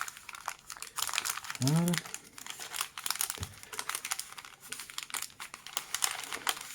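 Paper crinkles and rustles in close quiet bursts as it is refolded along its creases into an origami cuttlefish, with someone talking softly over the handling.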